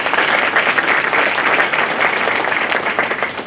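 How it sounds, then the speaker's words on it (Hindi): Loud, sustained applause from a crowd at a Bar Council of Delhi enrolment meeting, dense clapping filling the whole stretch without a break. "इसलिए मैं जोरदार तालियों से राकेश सहरावत साहब के लिए चाहूंगा कि"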